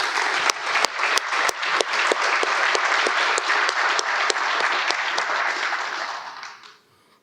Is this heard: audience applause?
yes